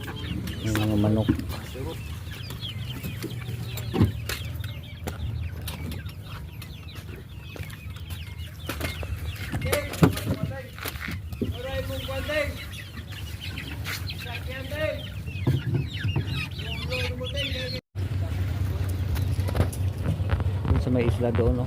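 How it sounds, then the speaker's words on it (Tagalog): Chickens cluck intermittently outdoors near the water in Misamis Occidental, their short calls scattered under a constant engine-like drone, with people talking throughout. "Yung mga manok."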